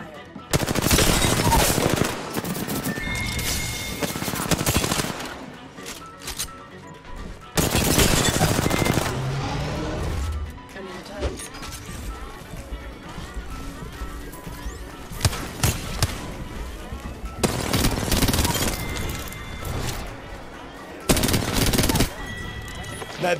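Automatic Flatline rifle fire in the Apex Legends battle royale game, loud sustained bursts several seconds long with short pauses between them, backed by game effects and faint voice chatter.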